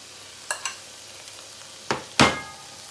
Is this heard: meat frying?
yes